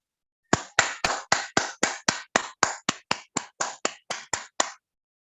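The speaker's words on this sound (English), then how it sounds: "So I'd like everybody to give a clap in their house and a warm virtual welcome to Jamoy." Sixteen sharp claps at a steady, even pace, loud and close, from one person clapping alone at home to welcome a speaker to a garbage separation seminar, with no talking.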